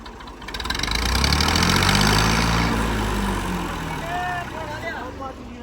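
A motor engine runs loud and rough, swelling in a rev over the first two seconds before easing back. Voices murmur beneath it.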